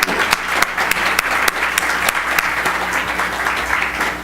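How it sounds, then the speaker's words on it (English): Dense, steady applause fills a conference room as two guests come forward to take their seats for an on-the-record conversation with Reid Hoffman, loud and sustained throughout with no talk over it. "could we please give them a big round of applause?"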